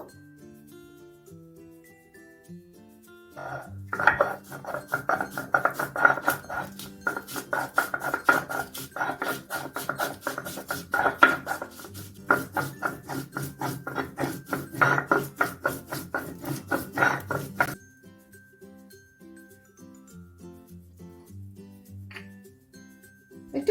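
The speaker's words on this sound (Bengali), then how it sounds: "সবকটা মশলাকে একত্র করে নিয়ে একটা মিহি পেস্ট বানিয়ে নেব" Ginger, ajwain and radhuni spices are ground into a fine paste with a steady, rhythmic rasping scrape. It runs close and fairly loud for about fourteen seconds, then stops, leaving quiet background.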